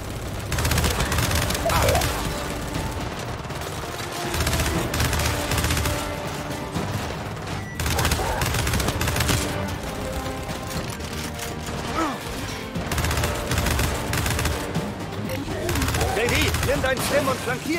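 Dense bursts of rapid gunfire and machine-gun fire with mechanical clatter from the video game Gears 5, continuous and loud throughout, mixed with voices talking over the action.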